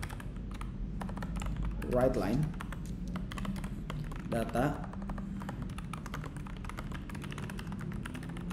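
Rapid clicking of computer keyboard keys while code is typed, a steady patter of keystrokes running under a voice speaking throughout.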